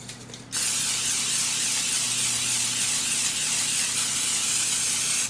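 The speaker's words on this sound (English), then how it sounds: "I'm going to spray the potatoes really well with the olive oil spray" A steady, close aerosol hiss of olive oil cooking spray on potatoes on a sheet pan runs continuously for about five seconds after a brief quiet start.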